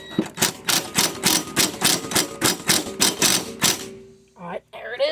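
A Ryobi 1/2 inch impact wrench fastens a lawn mower blade and blade adapter, hammering in a fast, loud rhythmic burst of about a dozen impacts for four seconds, then stopping as a voice begins to speak.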